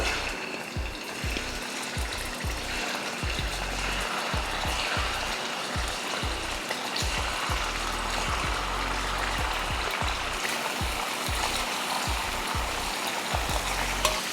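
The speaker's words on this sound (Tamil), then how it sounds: "அதையே எண்ணெயில் போட்டு வறுத்து எடுத்துக்கலாம்" Paneer cubes frying in oil in a kadai while making palak paneer give a steady, close sizzle with a busy crackling hiss and faint intermittent clicks throughout, with no talking.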